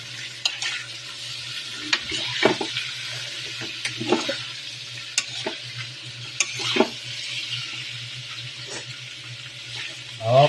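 Adobo being stirred in a pan, with a spoon or spatula scraping and tapping the pan in irregular strokes over a steady simmering sizzle, close up and fairly quiet.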